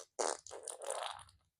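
A voice imitates a fart with the mouth: a short, wet, sputtering burst, then a longer rasping blat that trails off, fairly quiet and close, with no other sound around it.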